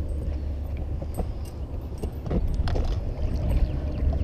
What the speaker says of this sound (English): dropping the motor down